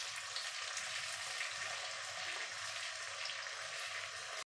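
Finely chopped tomato fries with light golden onions in a pan, giving a dense, even sizzle that holds steady and close for the whole stretch, with no voices.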